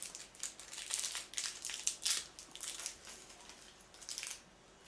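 A small plastic packet of colourful clasps crinkles and rustles as it is handled, with quick irregular bursts of close crackling that pause and resume, ending in quiet.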